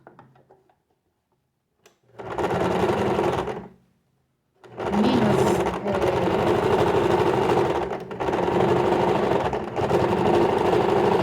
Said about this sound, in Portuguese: Vou virar minha necessaire e vou costurar o outro lado.